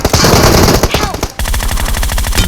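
Rapid automatic gunfire in PUBG Mobile, loud and close, with dense bursts of shots that briefly cut out and then resume at a steady rattling pace.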